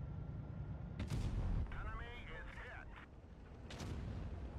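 A tank cannon fires in a tank video game, the BZ-75, a heavy booming shot heard amid game rumble, with another blast later; players talk over voice chat.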